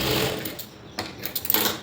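A sewing machine stitches a blouse band in a short whirring run that fades, then restarts with a few quick mechanical bursts, close and moderately loud.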